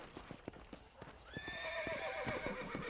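Quiet, steady clip-clop of horse hooves trotting in the video game Red Dead Redemption on Xbox One, followed by a high whinny that rises and holds over the footsteps.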